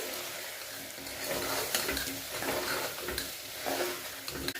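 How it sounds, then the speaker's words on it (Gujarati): Ground coriander-cumin and red chilli powder sautéing in oil for a potato-onion curry, a steady close sizzle that swells and eases with stirring. "તો આપણે બધા જ મસાલાને એક મિનિટ માટે આ રીતના તેલની અંદર સાતળવા દઈશું"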